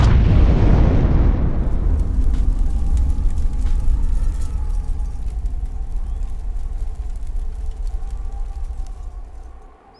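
A homemade explosives cache is blown up in a military patrol simulation, a single huge blast that starts at full loudness and rolls into a long deep rumble fading over about ten seconds.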